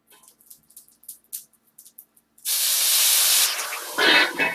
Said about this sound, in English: I just added a little bit of water. Now it's steaming.